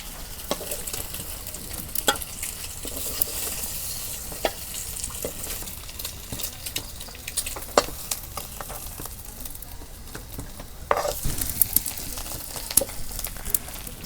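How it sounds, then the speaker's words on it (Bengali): Chopped onions and green chilies frying in hot oil for an egg dish, a loud close sizzle with frequent scraping stirs and sharp ticks of spatula against pan. "তো ডিম বোনা করবার নিগে তেল দিছি, এখন তেলগুলো গরম হয়েছে, পেঁয়াজ দিয়ে দিই।"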